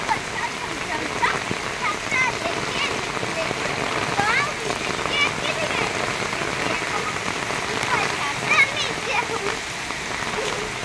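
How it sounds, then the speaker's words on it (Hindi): Steady rainfall pattering on surfaces, a dense continuous hiss of drops with occasional splashes, fairly close and even throughout, with a voice faintly present. "कितनी मस्ती में ये पानी बरस रहा है"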